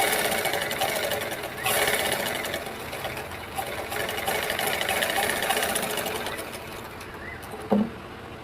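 Top-stitching a blouse lining on a sewing machine: a continuous, even mechanical whir runs for several seconds at close range, ending with a brief louder clack.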